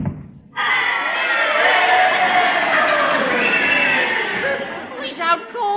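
Loud crowd of fight spectators in an old radio comedy, cheering and yelling in a dense continuous roar that starts abruptly after a brief opening sound and carries on steadily, with some louder shouts near the end.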